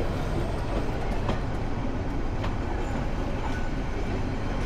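Nazirhat local train passing through a market, a continuous near rumble with soft clickety-clack of wheels over rail joints and occasional squeaky metallic ticks.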